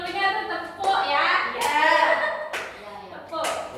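In a classroom during a microteaching session, children clap a counted rhythm: a few sharp group claps spaced about a second apart, mixed with a voice and children talking.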